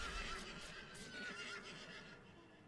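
A horse whinnies in the RimWorld game during a snowy colony fight, a faint, drawn-out wavering neigh under steady background game audio with a few soft hoof-like knocks.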